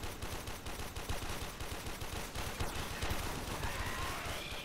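Rapid gunfire from the Warframe video game crackles in a dense, continuous stream of quick shots at moderate loudness, with no talking over it.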